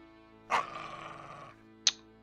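A dog in a turn-based war strategy game gives a sharp snarling bark followed by a growl, then a second short, sharp yelp a moment later, over quiet game music.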